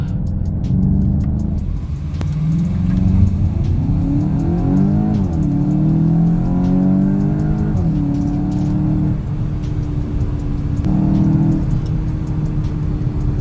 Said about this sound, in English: The vehicle launches quite well, as you can see, huh? Very powerful car.